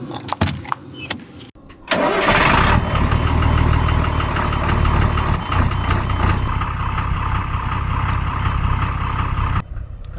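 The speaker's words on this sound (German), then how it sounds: "jetzt werde ich ihn nochmal anstarten und schauen, was er jetzt so tut" A car engine is started at minus 7 degrees: a few clicks and brief silence, then the starter catches and the engine fires into a loud, steady idle that runs on alone.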